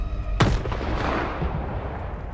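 A grenade goes off in STALKER 2 with one sharp, loud blast followed by a rolling low rumble that slowly fades, with no talk over it.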